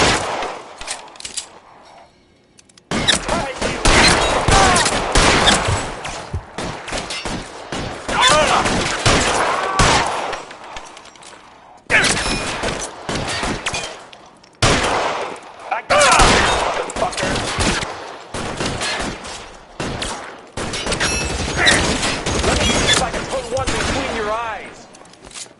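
Gunfire from a shootout in the video game L.A. Noire, loud and dense volleys in long bursts separated by brief pauses, mixed with game dialogue and voices throughout.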